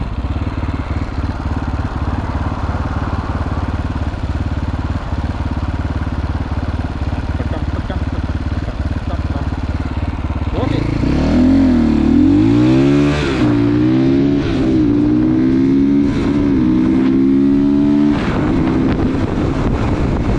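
A Kawasaki GPX300R motorcycle fitted with an ARacer ECU rides along with a constant engine drone and wind rush. Partway through, the revs climb and shift in rising sweeps, loud and close to the rider.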